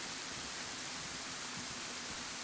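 Rain falling at night on the outskirts of a town in the video game DayZ, a steady, even hiss of downpour with no voices.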